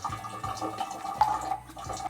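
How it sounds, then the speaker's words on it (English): Water trickles from a tap into a glass of Seelbach's 20-year Hazmat American light whiskey, a steady close splashing and dripping with a brief brighter splash midway. "I'm gonna add a little water."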